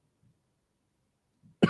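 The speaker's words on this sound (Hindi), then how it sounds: "यार खांसी क्यों हो रहा है इतना?" A single sharp, loud cough bursts out at the very end after near silence, preceded by faint low throat noises.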